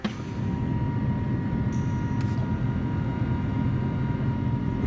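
Steady indoor airport ambience at LAX at night, a broad low rumble of ventilation and distant machinery with no clear voices, plus a brief faint high beep-like tone partway through.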